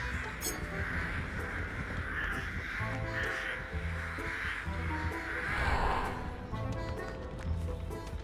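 Crows caw repeatedly over a dense game soundscape in Dead by Daylight Mobile, the calls steady and moderately loud among layered ambient hum and scattered footstep-like taps.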